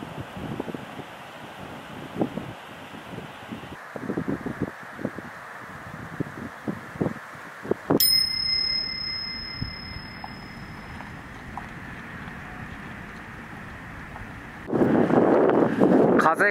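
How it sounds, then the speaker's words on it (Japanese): Strong wind sweeps the sandy beach at Byobugaura in Choshi, Chiba, buffeting the microphone with a constant roar that swells into a heavy gust near the end, while a voice is faintly heard underneath. "風が強くて私の声が聞こえてるかわからないですけど"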